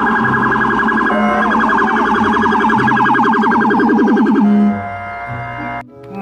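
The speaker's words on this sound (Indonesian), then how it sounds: "Mobil polisi." Toy police car gives off a loud electronic siren, a steady rising-and-falling warble with a lower repeating tone beneath, running about four seconds before stepping down to a quieter, simpler beeping pattern.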